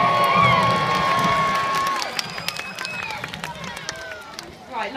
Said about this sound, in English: pick your favourites and cheer as loud as you possibly can for them